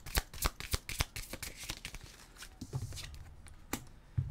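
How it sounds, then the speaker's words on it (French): Tarot cards shuffled and drawn from a deck: a rapid run of crisp riffling flicks and paper slaps up close, then softer sliding and a final snap as one advice card is pulled out. "On va aller chercher une carte conseil"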